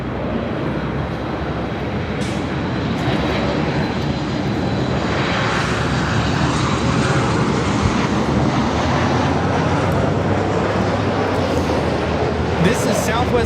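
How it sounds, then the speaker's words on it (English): A Southwest Airlines Boeing 737 MAX 8 arriving at LAX from Denver gives a loud, sustained jet-engine roar that swells and lingers, with someone talking over it. "1748 coming in from Denver, Colorado on the MAX 8"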